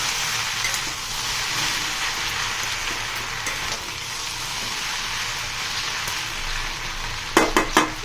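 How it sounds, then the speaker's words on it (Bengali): Eggs frying in a pan for a home-cooked egg curry, a steady close hiss and crackle throughout, with a brief clatter of utensil taps near the end. "এই যে ডিমগুলো ভাজতেছি"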